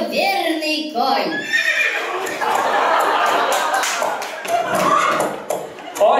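At a wedding game, a person imitates a horse's neigh with a loud, wavering whinny that rises out of speech, with tapping and crowd noise around it.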